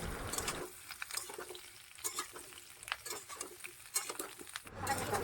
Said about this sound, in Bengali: সজনে ডাঁটাগুলো খুব বেশি ভাজা চলবে না, ভাজলে কিন্তু শক্ত হয়ে যাবে, জাস্ট একটু নেড়ে নিতে হবে।